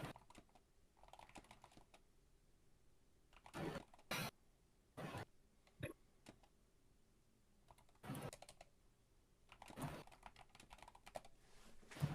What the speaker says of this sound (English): I'm going to type this to Renee real quick.